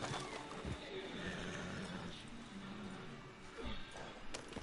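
A horse in a video game whinnies and neighs amid game ambience, with a brief hoof-like thump near the end; the whole thing is moderately quiet.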